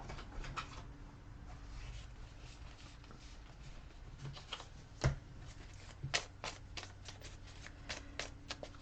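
Tarot cards are shuffled and pulled, a series of soft riffling and sharp snapping sounds at close range, quiet and intermittent, with a couple of louder flicks.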